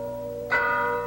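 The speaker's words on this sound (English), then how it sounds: "That's the Lexington Meeting House bell. It's the call to arms." Lexington Meeting House church bell rings the call to arms: a sustained hum fades, then a fresh bright strike lands midway, with another beginning right at the end.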